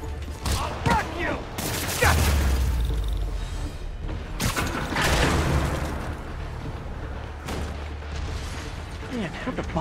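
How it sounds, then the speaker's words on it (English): Rockets launching and blasting in Marvel's Spider-Man Remastered, several heavy booms and whooshes in quick succession over a low rumble, with voices talking between and over the explosions. "More rockets? A little excessive, don't you think?"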